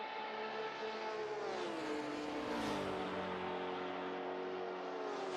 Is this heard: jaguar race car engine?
yes